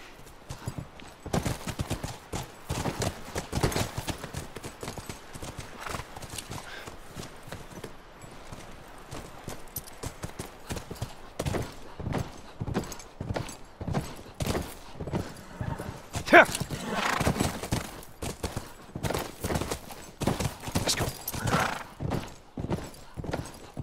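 Horses' hooves clip-clop steadily on ground in The Last of Us Part I, a long run of rhythmic hoofbeats with occasional voices and a neigh over ambient game sound.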